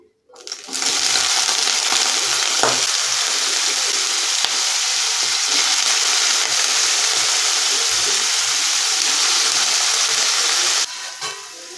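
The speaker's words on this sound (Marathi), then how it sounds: "मी डायरेक्ट हा बटाटा आहे तो तेलामध्ये टाकणार आहे शिजण्यासाठी" Cubed potato sizzles in hot oil for sabudana khichdi, a broad continuous frying hiss lasting most of the stretch before cutting off near the end, with no voices.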